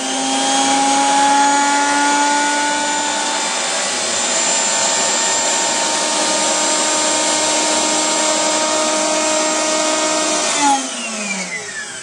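A Retsch ZM 100 ultra centrifugal grinding mill spinning up toward 18,000 rpm gives a steady, loud high-pitched whine with rising tones, running alone and winding down at the end.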